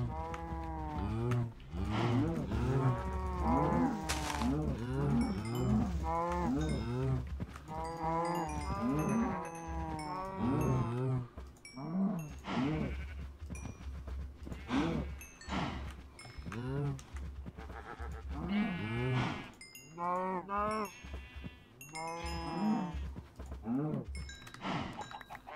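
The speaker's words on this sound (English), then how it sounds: "And apparently I got a lot of cows." Several Minecraft cows moo over and over, their low drawn-out calls overlapping close by, with someone talking over them throughout.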